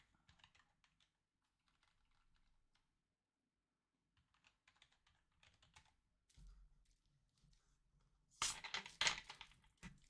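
Computer keyboard typing in short, quiet bursts of clicking separated by silences, growing to a louder, denser flurry of keystrokes near the end.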